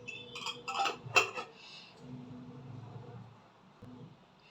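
A spoon clinks against a bowl a few times in quick succession while a pinch of turmeric goes into homemade baby food for a seven-month-old, followed by softer low scraping and rustling in a quiet kitchen.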